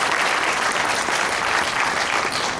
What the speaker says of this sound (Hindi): एक बार जोरदार तालियां बजाएंगे जब लोग